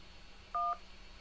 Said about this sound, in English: To continue to get help on the phone, press 2.